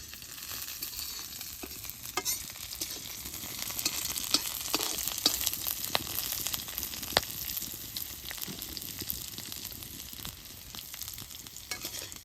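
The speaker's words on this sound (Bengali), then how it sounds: "বেশ সুন্দর করে ভাইজা নেবো" Dried fish (shutki) frying in a pan, giving a steady close sizzle with scattered crackles and pops and occasional stirring scrapes, with no talking.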